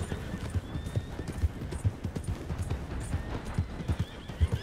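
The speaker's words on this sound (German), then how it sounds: "Jagt die Pferde auf." In the video game Red Dead Redemption 2, rhythmic hoofbeats of horses galloping, with a horse neighing partway through, fairly close and steady over a low rumbling background.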